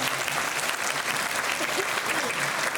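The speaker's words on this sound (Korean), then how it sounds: "박수 부탁드리겠습니다" An audience at a film talk for a TVING series at the Busan International Film Festival, Sohyang Theater, gives loud, continuous crowd applause that sounds dense and full throughout.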